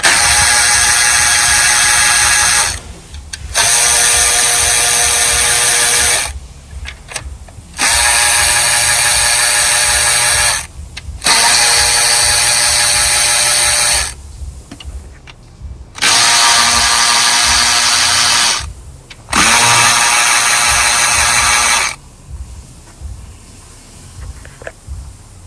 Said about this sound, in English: we're gonna use a number 8 to remove this bolt